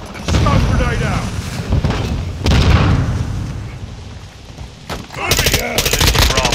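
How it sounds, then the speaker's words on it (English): Stun grenade going off amid loud Call of Duty Modern Warfare 2 multiplayer combat, sharp bursts and booms layered with gunfire and in-game voice callouts, a fresh blast erupting near the end. "Stun grenade out!"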